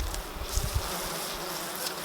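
Honey bees buzzing steadily at hive frames during honey extraction, a dense, continuous close-up drone with no gaps.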